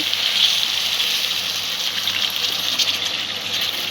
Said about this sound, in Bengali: অল্প করে জল দিয়ে দেবো তারপর একটু সেদ্ধ হওয়ার জন্য